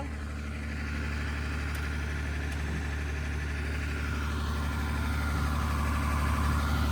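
A tractor engine idles steadily nearby, a low, even rumble that holds constant and swells slightly toward the end, with no talking.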